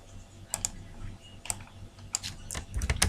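Keys on a computer keyboard clatter in scattered short clicks, sparse at first and then quicker in a brief burst, close by against a quiet room hum with no talking.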